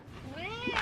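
A house cat meows while playing with new balls, a single rising, drawn-out meow close to the microphone with a faint indoor background.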